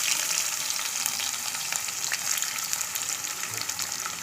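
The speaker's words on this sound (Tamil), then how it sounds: "பூண்டு பொரிஞ்சிச்சு. அதே வெங்காயம் போட்டுக்கலாம்." Onions frying in hot oil with garlic and mustard seeds for drumstick poricha kuzhambu, a steady close sizzle with crackling throughout and no talking.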